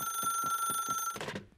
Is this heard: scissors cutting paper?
no